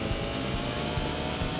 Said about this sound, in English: This engine, the DB7 engine,